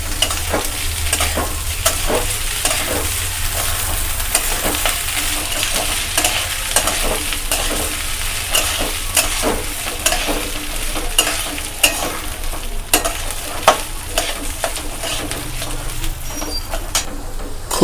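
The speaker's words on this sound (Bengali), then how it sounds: "দিয়ে ভালো করে চালটাকে ভেজে নিই একটু" Rice frying in a pan for Bengali Basanti pulao makes a long, steady sizzle with frequent clicking spoon strokes and scrapes, plus faint dove coos in the distance.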